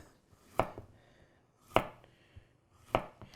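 A Mikarto Damascus chef's knife chops stir-fry vegetables on a board, giving three crisp, evenly spaced cuts at close range with light scraping in between.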